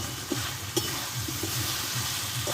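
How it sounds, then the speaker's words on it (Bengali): Potatoes sautéing with spices in a pan for Bengali aloo dum, a soft continuous sizzle with light scraping stirs and occasional clinks of the spatula. "আমি আরও এক মিনিট ভালোভাবে কষে নেব দেখো আলুগুলো ভালোভাবে আমি কষে নিয়েছি"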